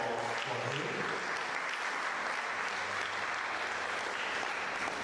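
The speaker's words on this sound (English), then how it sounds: "a big round of applause for him" Steady, dense applause from an audience at a community event, continuous clapping filling the whole stretch at an even level.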